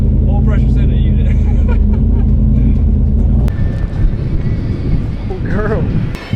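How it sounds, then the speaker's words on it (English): Race car engines with new Patriot motors roar loudly at a racetrack, a steady powerful drone that drops in pitch midway, with crowd chatter and voices mixed underneath. "These new Patriot motors are making some power."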